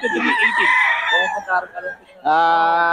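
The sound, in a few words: rooster crowing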